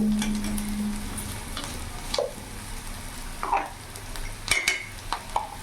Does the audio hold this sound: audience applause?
no